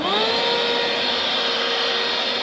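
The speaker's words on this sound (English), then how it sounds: "I had this little portable vacuum which has enough CFM to move things" A small portable vacuum runs steadily and loudly for the whole moment, a continuous whine with a high-pitched motor tone, used to pull air through a homemade clean room for electronics work.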